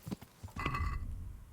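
Horse hooves clop and a horse whinnies in the video game Kingdom Come: Deliverance, with a few short thuds followed by a bright neigh near the middle that trails into steady hoof sounds. The sounds come through alone and close, with no speech.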